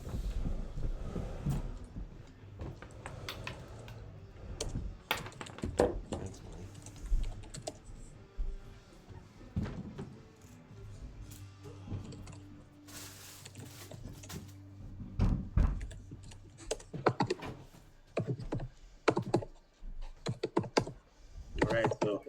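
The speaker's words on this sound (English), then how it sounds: "You guys hear my keyboard?" Rapid clicking of keys on a computer keyboard runs steadily throughout, close and soft, in irregular bursts with occasional heavier knocks and brief pauses.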